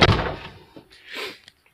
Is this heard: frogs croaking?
no